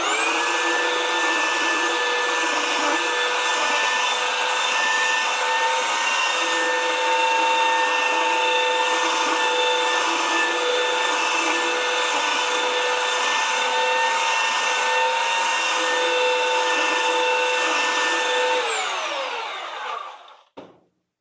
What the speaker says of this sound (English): Now we'll sand the top.